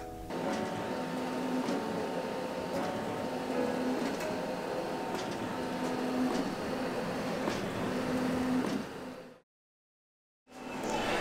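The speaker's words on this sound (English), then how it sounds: "Four done, fifth one coming out of the printer right now, just down here." A printer runs while producing exhibition prints, a steady mechanical whir with a faint repeating tone and periodic clicks, continuing for about nine seconds before cutting to silence and then resuming.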